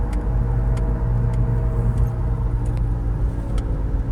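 A car cabin fills with a steady low humming drone while driving and steering, the noise continuous and fairly loud with a faint underlying rumble. No one speaks.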